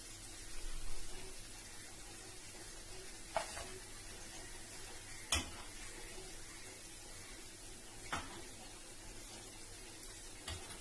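Cabbage Manchurian balls frying in hot oil, a quiet, continuous bubbling sizzle punctuated by a few sharp clinks of a spoon or ladle against the pan.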